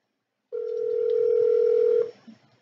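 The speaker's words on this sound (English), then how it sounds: "Let's see if he answered his phone." Telephone ringing on an outgoing call, a single loud steady electronic ring tone lasting about one and a half seconds after brief silence, then a faint click.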